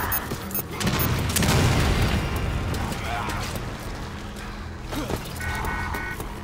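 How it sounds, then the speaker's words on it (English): Grenade explosions in the Resident Evil Umbrella Corps shooter game, with a loud booming blast and a rumbling roar that fades over several seconds, set among other game noise, with a voice talking over it. "Oh god, grenades!"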